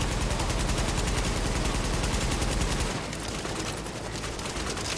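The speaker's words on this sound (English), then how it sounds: "Yeah, they're all shooting me, and it's making me sad." Dense, rapid gunfire from enemies aimed at the player in The Division, rattling steadily as a loud, continuous barrage that eases slightly after a few seconds.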